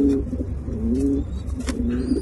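A domestic pigeon at its nest coos close by in low, rolling phrases, two or three calls in a row with short pauses between them.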